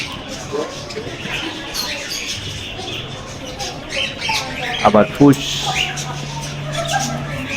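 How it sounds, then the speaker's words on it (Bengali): Birds in a bird park aviary squawk and chirp in a busy, layered chorus, with several sharp, loud calls close by and people talking over it. "আওয়াজ শুনেছো গাইস পুরো পাখিদের"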